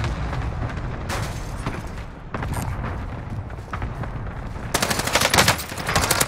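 An MP40 submachine gun fires in Warzone Pacific in rapid, loud bursts of automatic fire, with short pauses between strings of shots and booming impacts mixed in.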